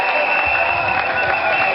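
A crowd at a memorial gathering applauds the secretary general with steady, loud clapping that carries under a constant electronic hum.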